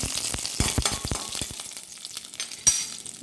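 Fenugreek seeds and curry leaves frying in hot oil for a toddy-shop style red snapper curry: close, crackling sizzle with sharp spitting pops that thin out toward the end, with no voices.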